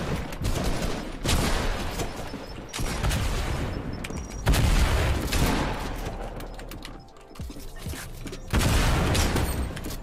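Fortnite combat with shotgun fire and other weapons: repeated loud, sharp blasts spaced a second or two apart over a busy game soundscape, some shots heavier and booming, continuing for about ten seconds.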